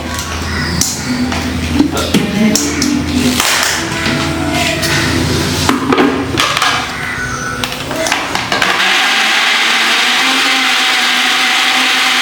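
A mixer grinder grinding jackfruit, a loud continuous motor whine with knocking and rattling from the jar, then a smoother steady hum toward the end.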